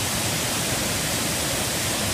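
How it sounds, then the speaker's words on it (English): Steady, dense broadband rush of a waterfall at a new Metro Park location, constant and unbroken throughout with no talk. "This is a waterfall at the new Metro Park location"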